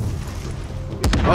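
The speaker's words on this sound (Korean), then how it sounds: "자, 터져요 가스통." Gas canister bursting in The Division on PS4, a short pair of sharp blasts with a heavy low thud that rise late over steady gunfire and background rumble.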